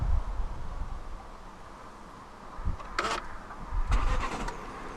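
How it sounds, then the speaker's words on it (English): A 2015 Fiat 500X Cross Plus with the 1.4 MultiAir II petrol engine starts by push button, brief cranking bursts catching into a low engine note, heard fairly quietly inside the car with no talking. "Put your foot on the clutch and press the start button to the right of the steering wheel."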